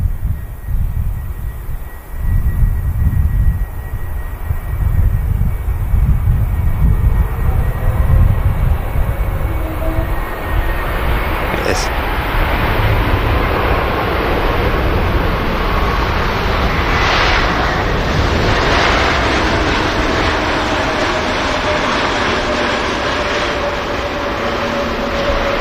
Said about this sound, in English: Nice touchdown from the 321neo of Air Transat